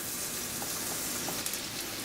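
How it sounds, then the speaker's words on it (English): Cumin and mustard seeds sizzle in heating oil, a steady close hiss with faint crackles and pops running through the whole short stretch, no voices. "As the oil starts to heat up, I'll bring the cumin seed. I'll bring mustard seed."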